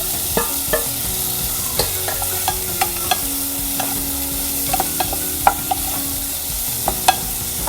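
Chopped tomato is stirred and fried in a pan while Maggi masala noodles are made, giving a steady sizzle broken by repeated light scraping and clinking of the spoon against the pan, with no talk.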